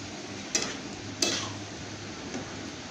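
Lentil piyaju fritters sizzle steadily as they fry in hot oil after being flipped, with a few soft clicks from a utensil and no talking.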